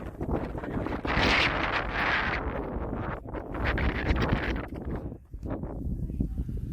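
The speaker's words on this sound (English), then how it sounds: "Oh, windy." Strong wind buffeting the microphone outdoors during a spring cycling outing in Japan, loud rumbling gusts that swell and drop, with a voice briefly audible underneath.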